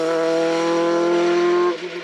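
A Dallara F302 Formula 3 race car roars past on a hill-climb course, a loud sustained high engine note held at steady revs before easing off abruptly near the end.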